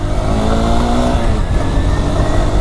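A Honda Hornet 2.0 motorcycle engine drones loudly and steadily up close, a continuous throaty roar held under load with no pauses.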